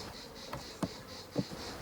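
Honey bees buzz faintly at a beehive, a thin steady insect drone with a few soft knocks and bumps close by.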